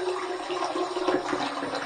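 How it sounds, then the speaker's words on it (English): Hot water running from a tap, a continuous hissing gush that stays steady and moderately loud, with no talking. "We're going to heat this up under some hot, hot, hot water."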